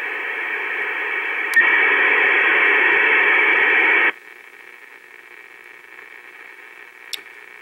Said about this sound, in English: It sounded like a dial-up modem.